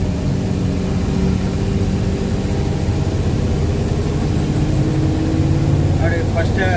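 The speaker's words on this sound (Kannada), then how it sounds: "ಸೆಕೆಂಡ್ ಎಕ್ಸ್ಟ್ರಾದಲ್ಲಿ ಬಿಡ್ತಾ ಇದ್ದೀನಿ ಹೆಂಗೆ ಹೋಗುತ್ತೆ ಗಾಡಿ" A truck descends a steep downhill road in second gear through an industrial area in Goa, its engine a loud, continuous low drone with a voice talking over it.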